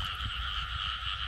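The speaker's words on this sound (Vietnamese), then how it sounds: "nên không có nghe ếch kêu nhiều." A dense chorus of frogs croaks steadily through the whole stretch, a continuous rasping drone heard at night in an open field in Vietnam's Mekong region, fairly loud and with no voices.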